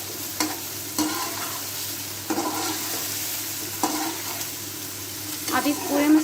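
Tomatoes and ginger-garlic masala sizzle in a pan while a spoon stirs and scrapes, leaving a soft steady frying hiss with periodic louder scraping strokes a second or so apart.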